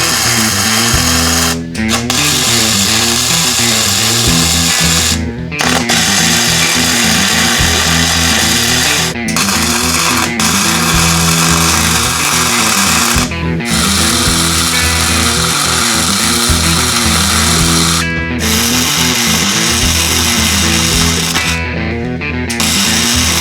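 A power tool grinds and cuts through a steel frame stiffener for a Jeep Cherokee XJ, a loud continuous buzzing whine running steadily, broken by several brief pauses as the tool stops and restarts.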